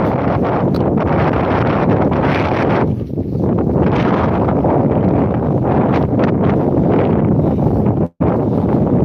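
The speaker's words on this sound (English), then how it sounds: "Yeah, the wind's blowing quite bad up here." Strong wind at the seaside in Withernsea, a loud, constant roar of wind buffeting the microphone that rises in gusts and briefly drops out near the end, with no talking.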